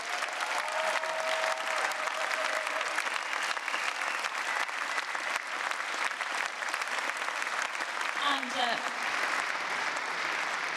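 Audience at a squash tournament final clapping in sustained, dense applause, steady and moderately loud throughout, with a voice speaking over it.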